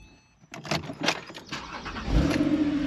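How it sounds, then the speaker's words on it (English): A Porsche 911 Carrera 4S Cabriolet (997.2) with Sport Chrono and sports exhaust fires up after a brief pause: starter whirr, a sharp bark, then a loud, steady idle close by. "let me get in the car and I'll show you the car started up"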